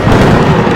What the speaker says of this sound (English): That lightning was definitely real.